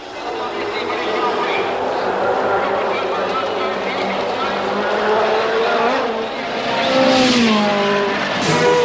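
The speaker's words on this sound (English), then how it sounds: "Jim Clark is now approaching his final lap, and all are willing him to the checkered flag." Ford Lotus race car driven by Jim Clark on its final lap, a sustained loud engine roar with rising pitch sweeps near the end as it passes close, under a continuous commentary voice.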